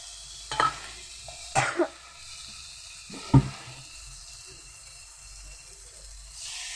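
Spice paste frying in oil in a pot for khichuri, a faint low sizzle under a few sharp scrapes and clunks of a spoon stirring, with quiet gaps between strokes.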